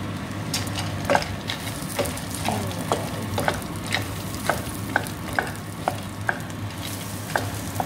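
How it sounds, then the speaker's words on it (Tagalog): Vegetables frying in melted butter in a pan, a steady close sizzle broken by regular clicks and taps of a utensil stirring against the pan, with a low hum underneath and no talking. "na-melt ko na yung butter. Then we should, we'll add the vegetables."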